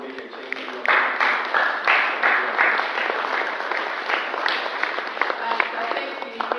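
A crowd applauds after a social media presentation, sustained dense clapping from many hands filling the room, steady and fairly loud throughout with scattered crowd noise beneath.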